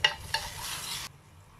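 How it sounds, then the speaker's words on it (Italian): Wine poured into a pan of browned meat for a ragù sets off a loud broadband sizzle that hisses steadily for about a second, then cuts off abruptly, leaving a low background hum. "Ora che è rosolata, aggiungiamo il nostro vino. Alziamo in modo da far sfumare."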